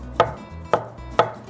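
A knife chops garlic on a cutting board in three sharp, evenly spaced knocks, loud and close, with no talk.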